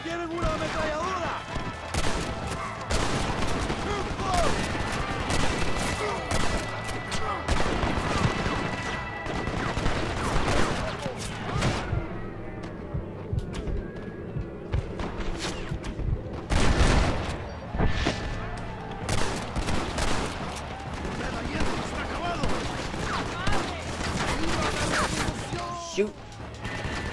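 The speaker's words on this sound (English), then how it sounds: "Cuidado, tienen una ametralladora." A Gatling gun and rifle fire rattle through a Western gunfight video game, with rapid volleys, impacts and crashes coming in waves, while someone talks over the shooting.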